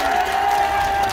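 Audience at an outdoor township day festival applauding and cheering, a dense continuous wash of clapping and crowd noise, loud and steady.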